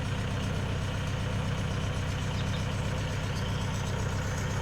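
Tractor engine idling steadily during a pre-work check on a farm, a close, continuous low rumble with no voices.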